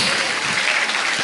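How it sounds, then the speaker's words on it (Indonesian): Audience at an end-of-year haflah event at an educational institution clapping together, a dense, steady burst of applause with no gaps. "Tepuk tangan sekali lagi untuk beliau."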